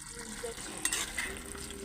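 Tangra fish fry in hot oil while being stirred, a close, continuous sizzle with brief clinks and scrapes from the utensil.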